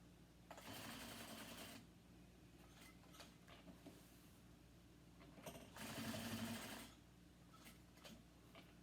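A sewing machine stitches fabric around a corner early in the morning, with two sustained loud runs of rapid, even mechanical stitching separated by quieter pauses, handling clicks and small adjustments.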